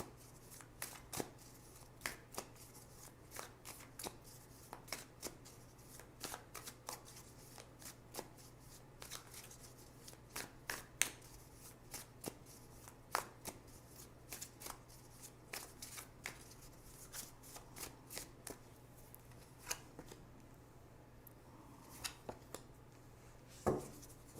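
Tarot cards are shuffled and drawn by hand in a quiet room, giving a steady run of soft, crisp riffling clicks and slaps for the whole stretch, with a low steady hum underneath and no talking.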